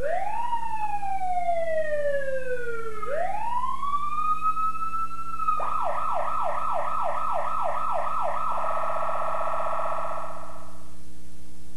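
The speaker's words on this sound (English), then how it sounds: "After selecting siren control on the control panel, turn on the siren." A 1992 Ontario ambulance siren wails loudly in long rising and falling sweeps, then switches to a rapid warbling yelp, steady and close with no other sounds.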